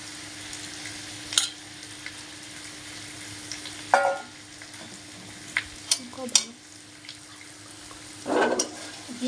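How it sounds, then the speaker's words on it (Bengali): Marinated chicken being stirred into frying masala in a pan, a low steady sizzle with intermittent scraping and clinking of a spoon against the pan, no speech. "মশলার সঙ্গে চিকেনটাকে ভালো করে মাখিয়ে নিয়ে মিক্সড করে নিতে হবে"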